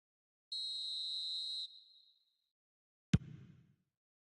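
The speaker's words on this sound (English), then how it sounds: "And the whistle's gone, presumably for offside." Referee's whistle in the eFootball 25 football game, one steady shrill blast about a second long with a short echo tail, followed a moment later by a single sharp thump.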